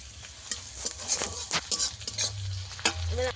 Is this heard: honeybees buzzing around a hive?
no